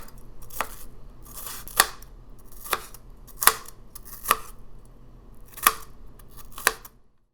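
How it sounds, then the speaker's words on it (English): A knife chops onions on a board for a Zambian-style chicken stew, with eight sharp, distinct strikes spaced about a second apart, crisp and close, with quiet scraping between cuts. "while the chicken is frying, I'm chopping the onions and blending some tomatoes"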